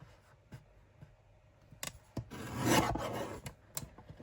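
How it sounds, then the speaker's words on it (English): A paper trimmer slicing through paper during junk journal crafting, a raspy scraping pass lasting about a second, with scattered light taps and clicks around it, close and fairly quiet. "see, this is why I don't like this trimmer"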